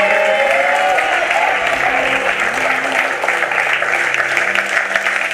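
A congregation applauds in a French-speaking church, with sustained, dense clapping from a crowd that carries on throughout, alongside faint musical tones early on.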